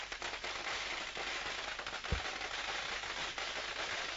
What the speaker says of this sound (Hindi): पटाखा फोड़कर जश्न मना रहा है आम आदमी पार्टी का हर एक कार्यकर्ता